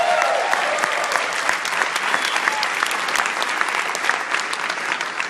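Seminar audience applauding, a dense, steady wash of clapping from many hands that holds at full strength for about five seconds with no talk over it.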